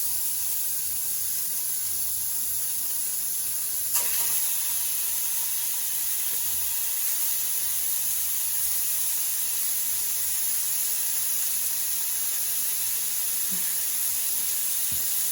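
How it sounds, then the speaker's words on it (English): A pound of ground beef sizzles steadily in a skillet over medium-high heat, a constant broadband hiss with no voices, holding even throughout apart from one brief knock early on. "keep your skillet on medium high and add that pound of ground beef"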